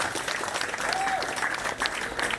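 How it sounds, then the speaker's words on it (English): Audience at a festival's opening remarks breaks into steady, even clapping throughout, with a faint whistle or voice rising briefly in the middle. "that deserves some applause."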